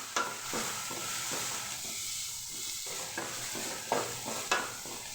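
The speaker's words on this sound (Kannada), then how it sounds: "ಎಣ್ಣೆಯಲ್ಲಿ ಸ್ವಲ್ಪ ಬೇಯಬೇಕು." Onions and tomatoes frying in oil for rava uppittu, a steady close sizzle with repeated scraping stirs and a few sharp clinks of the spoon against the pan, no talking.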